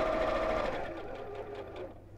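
A sewing machine stitches around the edge of a fabric piece, a rapid mechanical whirr of needle strokes heard up close, fading slightly and pulsing toward the end with no talking.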